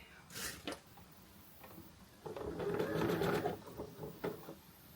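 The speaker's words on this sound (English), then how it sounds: "make sure you return to your normal stitch, not your zigzag stitch, before you start sewing" A domestic sewing machine stitches a tea towel, with short whirring bursts, then a longer steady run of stitching and a couple of brief taps, heard close by.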